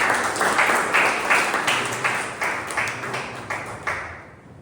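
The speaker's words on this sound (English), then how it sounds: "Please give an round of applause to Toastmaster." Audience applause at a Toastmasters club meeting greets a speech evaluator, with a steady patter of clapping marked by periodic stronger bursts that fades toward the end.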